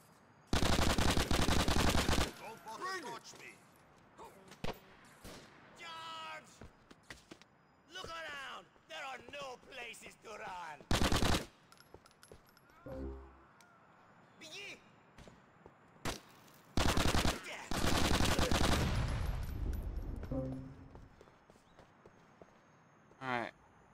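Sniper and other gunfire in the video game GTA IV: The Ballad of Gay Tony, with several loud broadband bursts and shots scattered through the stretch, mixed with game speech and clattering sounds.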